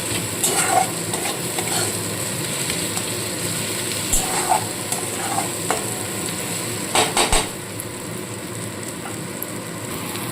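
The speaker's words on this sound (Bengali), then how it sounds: "মশলাটা কষানো হয়ে গেছে" Spices with fried cumin powder sizzle in a pan while a utensil stirs and scrapes repeatedly, with a cluster of quick clanks near the end.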